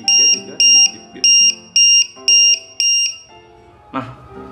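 A battery cell checker testing a cheap swollen battery gives a run of six sharp electronic beeps in quick, even rhythm, close and loud, then stops, followed by a brief clatter.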